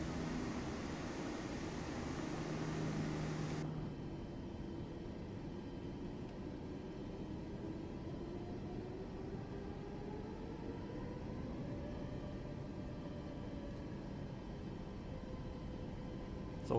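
Airplane flying in Microsoft Flight Simulator 2024, a steady engine drone and airflow hum that drops in level after a few seconds, then a slowly rising engine tone under continuous noise.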